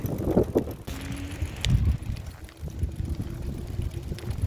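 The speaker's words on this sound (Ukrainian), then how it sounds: "Такий в нас сьогодні вітер сильний." Strong, gusty storm wind in a Dutch village buffets the microphone in low rumbling bursts, with occasional knocks and rattles; no one speaks.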